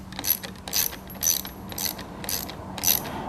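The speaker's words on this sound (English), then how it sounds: "I'm going to put these screws in now" Screws are turned into a Briggs & Stratton E-Series 4.50 HP carburetor on a Murray lawnmower, producing repeated ratcheting clicks in short bursts at a fairly regular rhythm, close and moderately quiet.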